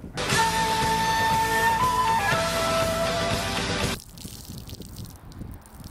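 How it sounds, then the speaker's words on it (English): Water pours from a bottle through a car air cleaner from a Subaru WRX with an EJ25 engine, a loud, steady splashing gush that runs for about four seconds, then cuts off and leaves faint drips and quiet rustling. "you're going to go ahead and pour down with water to take out all the dirt that's inside of it"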